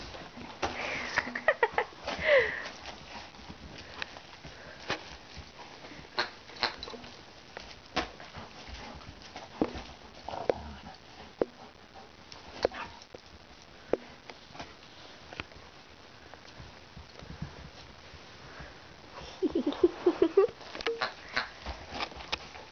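Puppies moving about close by, with soft sniffing and snuffling, light pattering steps and scattered small clicks, faint and intermittent throughout with a slightly busier stretch near the end.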